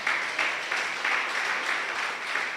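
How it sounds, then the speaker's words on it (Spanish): A church congregation claps together, a short burst of moderately loud applause with faint rhythmic pulses, heard without any voices over it. "denle el aplauso al Señor."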